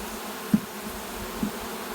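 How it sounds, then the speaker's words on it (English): Honeybees from a nucleus colony being installed buzz in a steady low hum up close, broken by two soft knocks. "Get off me, bees."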